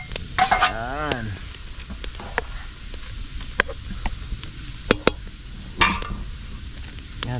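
Tomato, ginger and onion go into a hot pan, cooking with a soft sizzle and scattered clanks and scrapes of stirring, with a brief voice early on.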